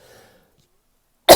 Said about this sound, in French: J'essaie de cacher mon micro pour pas vous tousser dans les oreilles.